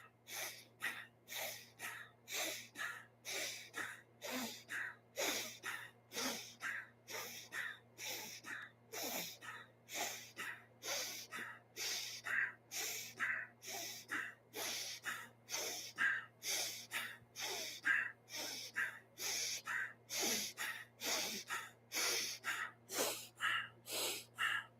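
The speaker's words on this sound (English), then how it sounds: "It's a very quick, rapid breath of fire." Rapid breath-of-fire yoga breathing pumps sharply through the nostrils during a Kundalini kriya, dozens of quick, evenly spaced forceful breaths in a steady driving rhythm, close and clear over a faint low hum.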